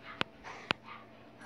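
A dog biting a person on the floor gives two short, sharp yips about half a second apart over quiet room noise, with no talking.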